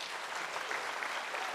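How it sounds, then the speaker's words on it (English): An audience applauds at a daytime AI event for the organising crew, a steady, dense wash of clapping throughout with no talk over it. "Let's give them a round of applause."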